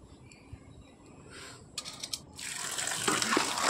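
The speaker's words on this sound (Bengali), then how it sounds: "মানে কচুর ডাকগুলো ধুয়ে নেব।" Taro stems are rinsed under a running kitchen tap, faint trickling at first, then water gushing and splashing more strongly, with a few handling clunks.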